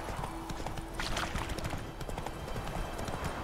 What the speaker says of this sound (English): Best befriend the horse.